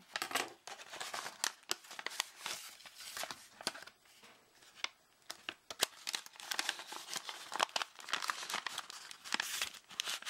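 Paper being folded and creased by hand, close up: a long run of sharp crinkles and crisp snaps with short quiet gaps, no talking.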